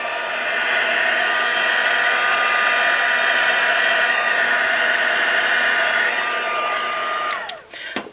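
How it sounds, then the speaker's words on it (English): Embossing heat tool blowing hot air to heat-set iridescent ice embossing powder, a steady loud whoosh like a hair dryer running continuously alone, cutting off near the end. "So now I'll heat up my heat tool"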